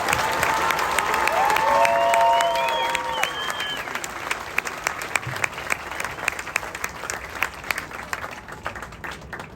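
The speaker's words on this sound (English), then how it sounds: "please join me in a well-deserved round of applause for the drill instructors and families" A large crowd at a Marine recruit graduation breaks into loud applause mixed with whistles and cheers, peaking early and then fading into scattered individual claps.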